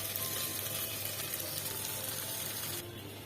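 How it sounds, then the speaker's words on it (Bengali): Chopped onion sizzles in soybean oil in a pot, a continuous, fairly quiet hiss heard close up with no talk, easing slightly near the end. "সয়াবিন তেল দিয়ে দিলাম পেঁয়াজ কুচি দিয়ে দিলাম"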